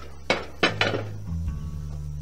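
A cast iron Dutch oven lid is lifted off the pot, three sharp metallic clanks in quick succession followed by a low ringing hum, close and fairly loud.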